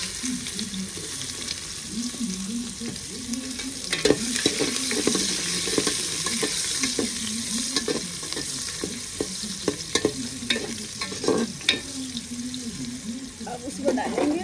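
Onions frying in oil for a restaurant-style biryani, a steady sizzle with stirring scrapes and clinks while a voice talks intermittently over it.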